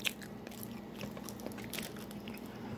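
Crunchy bites of a Taco Bell quesadilla supreme, close and quiet, with a sharp crunch at the start followed by repeated crisp chewing crackles.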